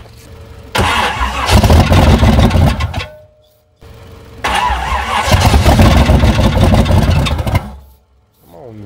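A 1994 Chevy truck engine with a weak battery cranks and catches twice, each time running roughly for a couple of seconds at close range before dying back to near silence.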